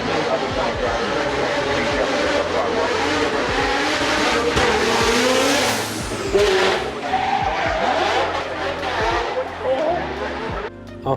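Race cars roar up the hill course at the Goodwood Festival of Speed: a loud, continuous engine drone with revving and passing swells, heard from close by the track.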